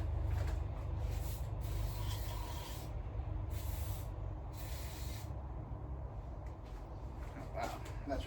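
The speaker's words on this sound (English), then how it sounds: "let me get some cleaner and spray some of that off" Aerosol cleaner is sprayed in several sharp hissing bursts onto a greasy 1970s cruise control part, each lasting about a second, close to the microphone, with brief pauses between and a voice briefly in the background.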